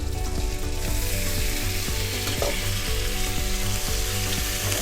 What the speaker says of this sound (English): So once the butter and the sugar is nicely melted, we add the 350 grams of pineapple.